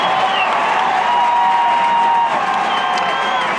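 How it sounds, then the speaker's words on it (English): A high school football crowd cheers and applauds in a stadium, a dense sustained roar with whoops rising over it, loud and continuous throughout. "And the Amador crowd is into it."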